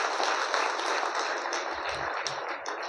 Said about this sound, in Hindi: ज़बरदस्त ताली लगाइए अपने लिए।